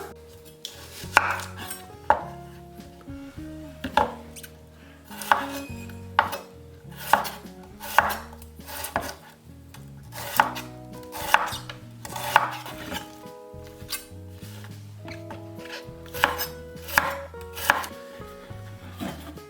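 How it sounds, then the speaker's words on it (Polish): A knife chops an onion into thin strips on a cutting board in a home kitchen, with steady repeated cuts and sharp thuds against the board alongside light kitchen clatter, close and clear with no talking. "Zaczynamy od krojenia cebuli. Cebulę pokroję w piórka."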